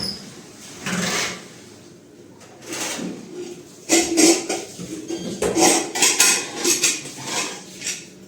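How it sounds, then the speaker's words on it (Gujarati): A small pressure cooker and metal pots are handled in a home kitchen. Intermittent metallic clanks, knocks and scrapes come close by in irregular bursts, growing busier toward the end. "હવે નાનો કુકર લઈ લઈએ આપણે"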